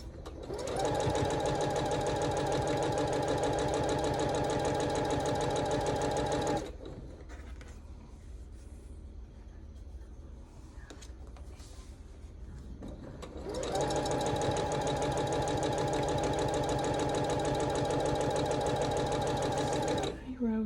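A sewing machine stitches a quarter-inch seam on a quilt block, a steady loud mechanical whirring run that stops for a few seconds of quiet room sound, then resumes just as continuously and loudly.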